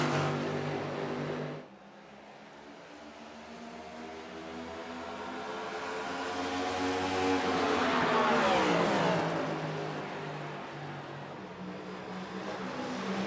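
Race car engines in the iRacing sim at Iowa Speedway, a steady harmonic drone that dips briefly, then swells as a car closes in and passes, peaking loudly before easing into a sustained roar.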